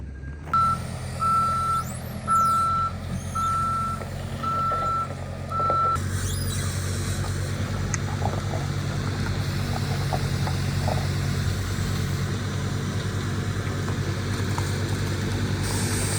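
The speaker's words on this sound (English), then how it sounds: "These mini loaders are so nice for what we do." A mini loader moves old cars around a salvage yard, its reversing alarm pulsing in a regular series of beeps for several seconds over a low diesel engine drone that continues steadily afterward.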